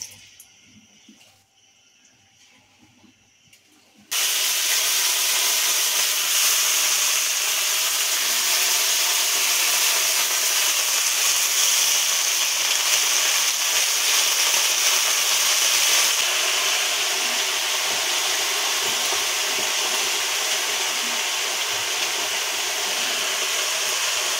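Fourteen leafy greens, including water spinach, drop into hot oil after a few quiet seconds, setting off a loud, close hissing sizzle that continues steadily and fades only slightly toward the end.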